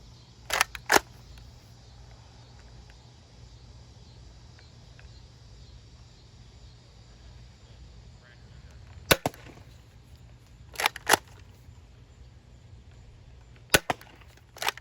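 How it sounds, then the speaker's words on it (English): A Dart Zone Pro MK2.1 foam dart blaster fires from about 20 to 25 feet, giving sharp, snappy cracks in quick pairs and short clusters separated by quiet pauses, against faint background hiss. "I'm going to fire with the muzzle brake off for the first two clips and muzzle brake on for the last clip"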